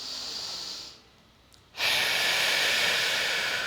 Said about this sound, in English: As you breathe out, close your lips as if you're blowing out birthday candles so that you can prolong the exhale